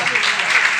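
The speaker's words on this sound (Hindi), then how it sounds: "यीशु मसीह के लिए जोरदार तालियां बजाएंगे।" A church congregation applauds during a Lent service, a brief, loud burst of clapping from many hands that fills the space evenly with no pauses.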